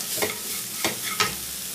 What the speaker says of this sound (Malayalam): ഈ പഞ്ചസാര ഒന്ന് അലിയണ വരെ നമുക്കിതൊന്ന് ഇങ്ങനെ ഇളക്കിക്കൊണ്ടിരിക്കാം